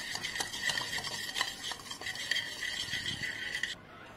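Salt, turmeric and kasuri methi stirred into a paneer marinade, heard as rapid rhythmic clinks and scrapes of a spoon against a bowl, close and busy, stopping abruptly near the end.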